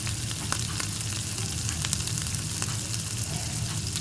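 Onions frying with turmeric, chili, cumin, coriander and garam masala in a pan for chicken roast, a loud, steady, close sizzle with scattered crackles and light stirring, no voices.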